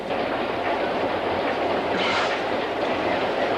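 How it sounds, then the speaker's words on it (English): A train runs on rails with a steady, loud rumble and rhythmic clickety-clack of wheels, heard from on board without speech. "They don't have any way of getting off this train."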